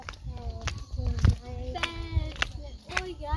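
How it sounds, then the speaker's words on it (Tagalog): A goat bleats several times with wavering, harmonic cries at a farm with houses nearby, the calls close and fairly loud over a busy background with some voices. "Ayan na naman po yung kambing."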